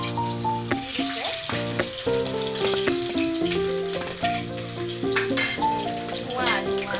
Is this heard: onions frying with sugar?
yes